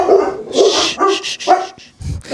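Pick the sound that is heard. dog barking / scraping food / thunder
dog barking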